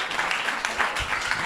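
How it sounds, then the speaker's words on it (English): An audience claps for a school's staff at a children's program, a short burst of moderately loud mixed handclaps with some overlapping voices. "Let's have a big hand for the entire Vedic Academy staff."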